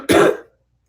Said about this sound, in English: All I have is a little bit of a cough they gave me at the very end of it.